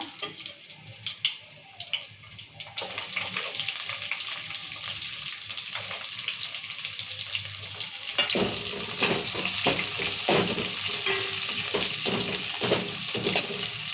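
Urad dal and curry leaves with red chillies frying in hot oil, a soft crackle at first that swells into a louder, busy sizzle with scattered pops as stirring goes on.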